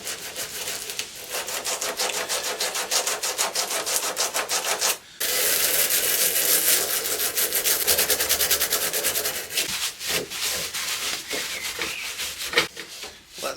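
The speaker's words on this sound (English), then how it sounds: "this isn't a wire brush, it's just a nylon brush" Nylon brush scrubbing the wooden surface of an art deco vanity during restoration, rapid rhythmic back-and-forth scratching strokes close up, with one brief pause midway and a continuous abrasive texture.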